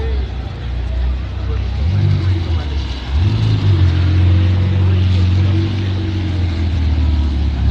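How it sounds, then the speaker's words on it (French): A Ferrari 488 Spider engine rumbles and rises in pitch as it revs, loud and close, under steady talk from nearby people. "Petite Ferrari 488 Spider."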